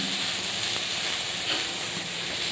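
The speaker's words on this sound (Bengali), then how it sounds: "দিকে করলা ভাজা বসিয়ে দিয়েছি" Bitter gourd slices frying in oil in a home kitchen pan, a constant dense sizzle and hiss that holds steady and fairly loud with no voices over it.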